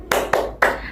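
Students in an Indonesian classroom clap in unison, three sharp group claps in a quick spirited rhythm, close and loud, with no talking between them.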